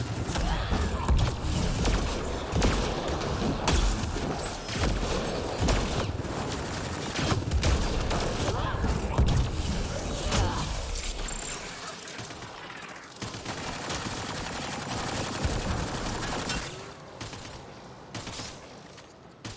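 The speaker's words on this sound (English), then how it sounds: "I hear bullets." Sustained gunfire in the Mass Effect Andromeda video game, a dense continuous fusillade of shots and mechanical clatter that thins out and softens toward the end.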